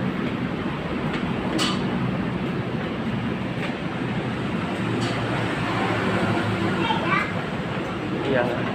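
A passenger train pulls into Lawang station in Indonesia as a steady, loud rumble of rolling wagons fills the scene, with children and adults talking over it throughout.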